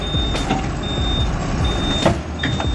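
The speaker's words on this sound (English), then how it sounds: "Witness the muscular power of the giant machine, roaring with power as it effortlessly conquers the steep incline to get on the specialized vehicle." A giant off-road machine climbs a steep incline onto a specialized transport vehicle. Its heavy diesel engine roars steadily and loudly, while regular high reversing beeps repeat over the din.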